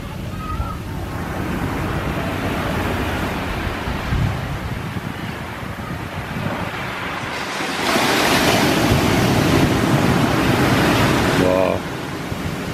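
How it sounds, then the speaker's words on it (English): Big ocean waves at Laguna Beach roar as a broad, continuous wash of surf with wind buffeting the microphone, swelling louder in the middle of the stretch before easing, with no talking. "Big waves."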